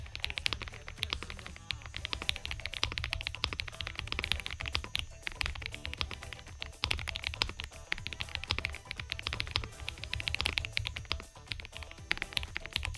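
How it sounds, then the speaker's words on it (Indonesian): A Tecware Spectre 96 keyboard is typed on steadily for several seconds, producing dense, rapid, soft-edged key clacks with a thocky, slightly creamy character, heard alone with no talking. "untuk hasil suara dari keyboard ini sih, dia cenderung punya karakter talky dan sedikit creamy yang lembut gitu"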